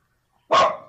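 A single sharp dog bark rings out close and loud after a brief silence, then trails off quickly.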